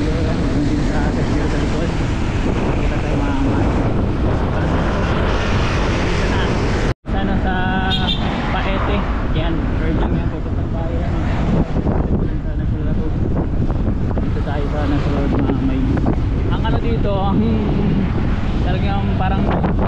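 Loud, blustery wind roars across the microphone almost continuously, with voices talking beneath the buffeting.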